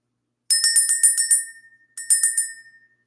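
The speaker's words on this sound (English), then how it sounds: "Let's ring that bell." A small bell rung to clear energy gives a quick run of about eight bright, ringing strikes, pauses, then a shorter run of about five, each decaying cleanly in silence.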